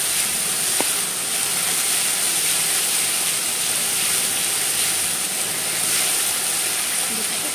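Ginger, coriander and cumin paste being stirred in a hot pan, heard as a loud, steady hiss and sizzle throughout, with an occasional faint utensil tap.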